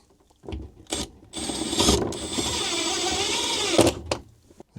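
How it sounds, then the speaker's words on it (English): A screw is driven into a 3D printed PLA/PETG pegboard tile, a steady mechanical whir of a driver running for about two and a half seconds, with short bursts before and after, close and fairly loud. "Let's throw a screw in."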